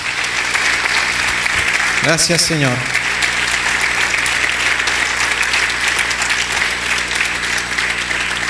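A Pentecostal church congregation gives loud, sustained applause as an offering of praise, a thick continuous clapping that runs the whole time while a voice speaks briefly over it.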